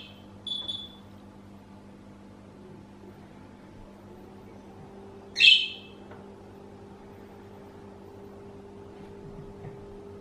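A pet bird gives two brief chirps near the start, then a sharp, loud electronic oven timer beep sounds once midway, over a quiet kitchen hum.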